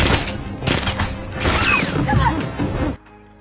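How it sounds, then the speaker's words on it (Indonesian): Rapid bursts of gunfire and crashing impacts in a chaotic film shootout scene, loud and close, ending abruptly in near silence. "Baku tembak pun terjadi."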